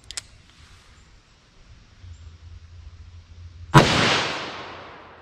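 A single loud gunshot from a Smith & Wesson Model 69 .44 revolver at an outdoor target range, a sharp blast followed by a short decaying tail after a stretch of quiet.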